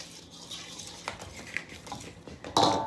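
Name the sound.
stirring baking powder and baking soda into flour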